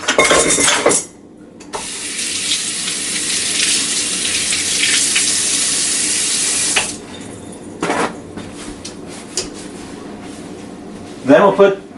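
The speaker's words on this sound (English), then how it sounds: "I'll give my hands a quick wash." Water runs from a kitchen faucet as hands are washed while a crab-stuffed salmon dish is prepared, a steady close hiss of about five seconds, with a brief burst of speech before it and clatter and talk after.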